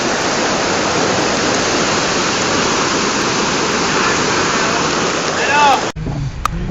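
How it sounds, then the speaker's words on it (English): A flooded river rushes during Hurricane Irene, a loud, steady roar of water that cuts off sharply near the end. "this is the river down at Autumn Leaves"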